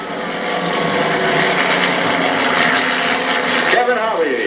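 Engines of the Vanguard Squadron's homebuilt 150 to 160 horsepower light aircraft at the 1994 Sioux Falls Joe Foss Field air show: a steady droning buzz from planes overhead, with an announcer talking over it.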